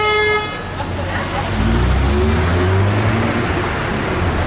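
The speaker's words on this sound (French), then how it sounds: "Et voilà, la Chiron qui arrive." Bugatti Chiron supercar rolling up a street in Juan-les-Pins, its low engine rumble swelling midway amid steady traffic, with a horn toot near the start and people talking over it.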